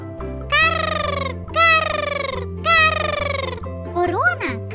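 Three drawn-out, crow-like caws ring out one after another over steady background music, followed by a shorter squawk at the end.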